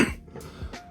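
A single sharp cough at the start from someone still recovering from the flu, close to the mic, followed by quieter room sounds and faint handling noises.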